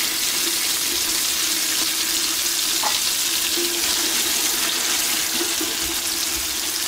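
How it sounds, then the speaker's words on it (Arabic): Onions, tomatoes, peppers and garlic fry in a pan for Tunisian fish malthouth couscous, giving a steady, even sizzle that runs unbroken throughout, with a faint clink or two and no talking. "كما شفتوا توا البصل والطماطم والفلفل والثوم متقلى"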